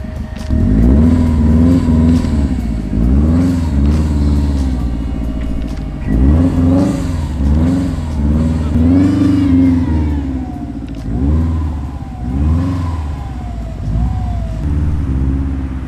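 A rear-wheel-drive Subaru Legacy on R compound tires revs and accelerates hard in snow, its engine rising and falling in repeated loud surges through a steady close roar.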